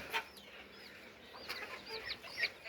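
Chickens clucking close by in short bursts, with a few higher squawks standing out over a soft outdoor background.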